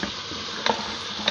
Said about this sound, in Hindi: हम शलजम के साथ अपने गोश्त को अच्छी तरीके से भून लेंगे